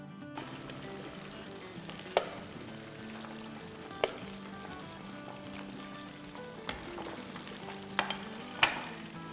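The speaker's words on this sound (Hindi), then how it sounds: "यहाँ देखिए चावल में बबल बबल बबल हो रहा है।" Rice simmers in a pot on a stove, giving a soft steady bubbling hiss with a few sharp pops and clicks scattered through it, and no voices.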